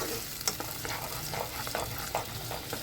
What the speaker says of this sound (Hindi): देखिए यहाँ पर प्याज और हरी मिर्च का पेस्ट जो है वो हमने भून लिया है